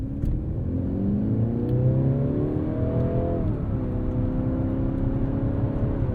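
A 2022 Mercedes-Benz C300 4MATIC sedan on snow tires accelerates up an entrance ramp, the engine note rising smoothly through the revs, dipping briefly at a shift, then climbing again, heard steadily from inside the cabin.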